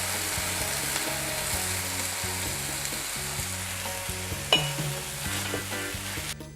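Milk pours into a hot frying pan, setting off loud, steady sizzling and crackling with a brief splash partway through.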